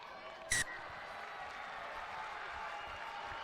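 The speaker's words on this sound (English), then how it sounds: "And the round of applause tells me that that's gone over" Crowd applause rises at an Italy v France under-18 Six Nations rugby match after a successful kick at goal, a steady broad wash of clapping with one brief sharp whistle-like sound near the start.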